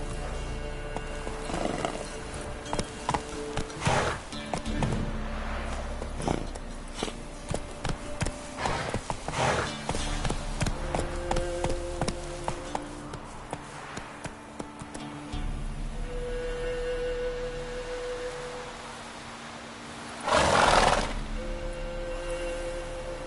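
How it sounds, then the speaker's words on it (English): Hooves of the horse Roach pounding in a rapid galloping rhythm in The Witcher 3 on PS5, mixed with game ambience and music, with a louder burst near the end. "That's it, Roach"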